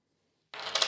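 A 2 euro coin clinks down onto a pile while coins are being sorted, giving a short metallic rattle after a moment of silence.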